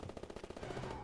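Aircraft strafing-run gunfire in a video game: a rapid, dense rattle of automatic shots firing continuously for about a second, loud and close.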